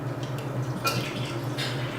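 Local non-homogenized milk being poured into a measuring cup, heard as faint, brief liquid splashes and drips over a low steady hum in a quiet kitchen.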